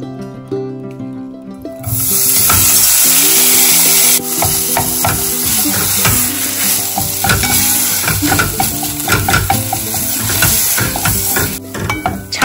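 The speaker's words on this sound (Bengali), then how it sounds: "এর মধ্যে আমি ছানাটাকে ভেজে নেবো একটু ঘি দিয়ে" Chhana (paneer) frying in ghee in a pan for sweet chhana payesh, heard as a loud, steady sizzle that bursts in after a quieter opening and carries on with a busy crackle of stirring throughout.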